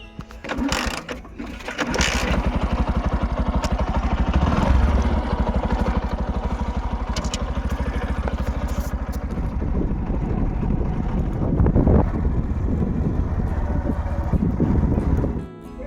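A motorcycle engine runs steadily at close range after a brief start, a continuous rumbling drone with some rattling.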